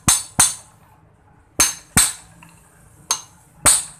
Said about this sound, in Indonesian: ini kita kencangkan dulu untuk mur yang di atasnya ya